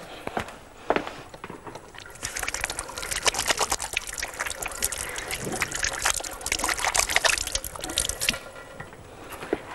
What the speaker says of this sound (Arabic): أغسل إيدي بس